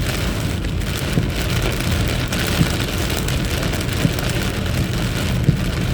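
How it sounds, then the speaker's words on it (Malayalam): Heavy rain pours steadily during a flood in Ajman, a dense continuous roar with a few sharp drops or knocks standing out, and no voices. "ഇത്രയ്ക്ക് ശക്തമായ മഴയാണ്"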